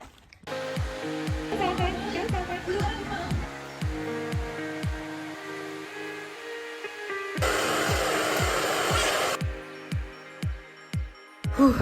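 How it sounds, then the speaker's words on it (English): A hair dryer blow-dries a child's hair, its loud, breathy whoosh switching on for about two seconds near the end. Before and after it come other tonal sounds and speech. "So I'm just blow drying it."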